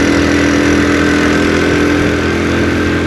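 A 2022 Honda CD 70 motorcycle climbs uphill in fourth gear on the road to Murree. Its small engine drones loudly and steadily up close, without a break.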